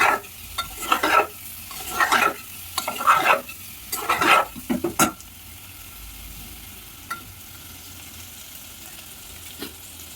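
Paneer fries in a pan while a spoon stirs it in a run of scraping strokes for about five seconds; a quieter, steady sizzle continues afterward with an occasional clink.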